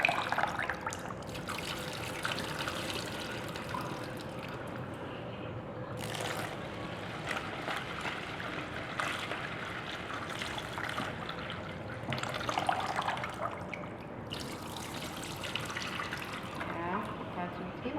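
Soaked cassava or sticky rice is washed by hand in water, giving a steady close trickling and sloshing that swells and fades, with faint speech.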